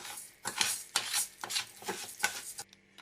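Ingredients for spicy pork loin are stirred in a pan, giving a run of scraping, clinking strokes in an irregular rhythm, fairly close and quiet, ending in a brief near-silence.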